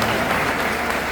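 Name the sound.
audience applause at a live event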